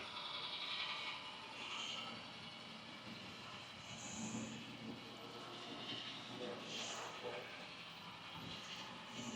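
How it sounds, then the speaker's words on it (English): Model trains run around a multi-level museum layout with a Mount Rushmore scene, giving a faint continuous mechanical whir and light clatter under steady room noise, with a few brief higher squeaks. "A little train going through down there."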